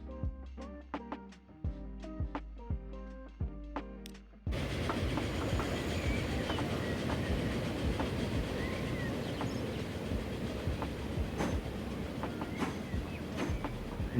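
A train running in a Great Britain map of a train simulation game: sparse clicking ticks at first, then a dense, steady rumble of rolling wheels with rhythmic clacks that holds at moderate loudness to the end.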